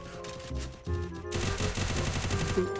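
Rapid gunfire from a gun in the game Garena Free Fire rattles on in a dense, continuous burst that grows louder and fuller partway through, under a layer of game background sound.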